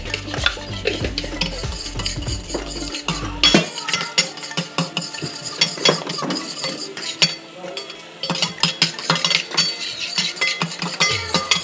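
Eggs whisked briskly in a bowl for a fluffy omelette, with a pinch of chilli powder, turmeric and ginger paste being mixed in; rapid, continuous clinking and scraping of utensil against the bowl throughout, close and fairly loud, with no talk.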